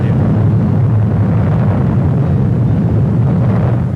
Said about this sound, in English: Mike, the first so-called hydrogen bomb, is test-fired